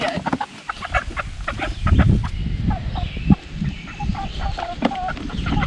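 Big chickens clucking up close during transfer for processing, with repeated overlapping clucks and squawks from several birds and bits of handling noise throughout.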